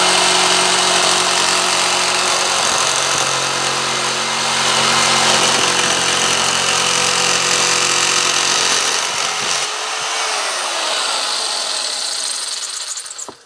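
Hyundai J-800 electric jigsaw cutting plywood at speed six, a loud steady motor whine with buzzing blade chatter running continuously for about ten seconds, then the pitch shifts and the tool winds down near the end.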